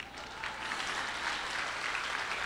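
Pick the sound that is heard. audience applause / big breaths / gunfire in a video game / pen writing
audience applause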